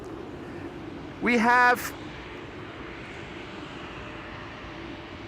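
A KLM Embraer E2 airliner on the ground at Amsterdam Schiphol Airport, its engines a steady, moderate hum, with a short burst of speech part way through.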